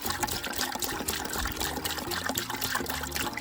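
Liquid pours and splashes steadily into a one-gallon fly-control mixture on a farm, a continuous close trickling and gushing with no talk.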